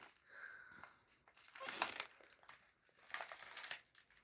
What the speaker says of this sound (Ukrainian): Рви, рви цей пакет, рви.